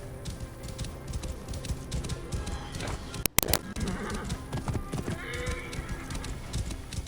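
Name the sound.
horse hooves in a video game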